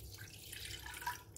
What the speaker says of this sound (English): I'm going to add in half a glass or half a cup of water